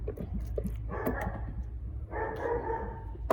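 A dog barks a few times in the background amid a low mechanical hum, with brief louder bursts of noisy activity.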